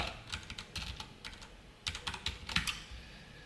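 Typing code on a computer keyboard. Soft, quick clusters of keystrokes come in irregular bursts with short gaps between them. The keys sound fairly quiet and close, with no speech.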